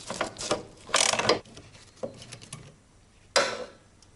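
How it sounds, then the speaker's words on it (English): A ratchet loosening a 14mm bolt on the rear brake hub of a Mazda MX-5 Miata (NA/NB), heard as several bursts of rapid clicking near the mic, separated by pauses, with a final short burst near the end. "Remove this 14mm bolt so you can readjust the Allen key."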